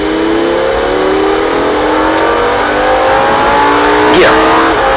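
A Lamborghini Huracan accelerates hard around the Red Bull Ring race track, its engine note rising steadily through the revs with one quick gear change, loud and close as if heard from onboard.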